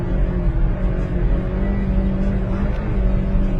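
A car drives on the Nurburgring Nordschleife, its engine droning loud and constant with a steady low rumble and road roar. No voices are heard.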